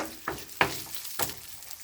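Ham frying in a pan sizzles steadily while being stirred, with three distinct scraping stirs cutting through the close, continuous crackle.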